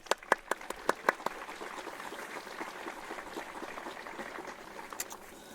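Audience applause at a graduation ceremony, a faint, distant wash of many hands clapping with a few sharper nearby claps at the start, heard through a livestream capture.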